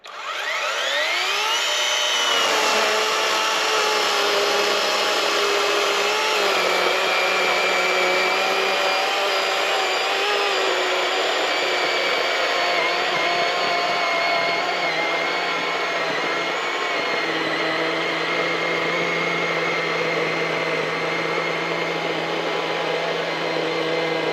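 A cheap, brand-new electric chainsaw bought on Amazon cuts through a big log, its motor starting up and then holding a loud, steady high whine throughout, with a slight drop in pitch under load and no talking.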